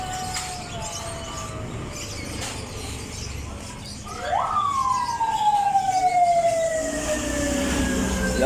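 Fire truck sirens sound at a large fire scene, a faint distant wail at first, then a loud close siren that sweeps up sharply and slowly falls, over steady crowd and traffic noise.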